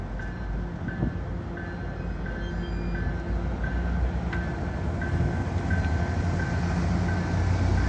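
MBTA commuter train with Kawasaki rebuilt CTC-4 coach 1714 passing inbound to Boston North: a steady, loud rolling rumble of wheels on rail with faint high ringing tones, building slightly toward the end, no talking.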